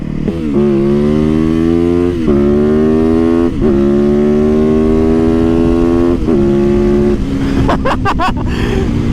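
A Suzuki DR-Z400 supermoto motorcycle engine revs loudly up close in several rising throttle blips with short dips between. It ends in a few sharp, quick bursts.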